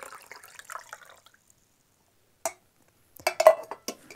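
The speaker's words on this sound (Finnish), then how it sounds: "Ja koska tämä vuotaa, niin mun täytyy kaataa vedet takaisin." Water from a leaking vessel is poured back at a Passover seder meal, giving a few quiet splashes and dish clinks in short bursts separated by silence.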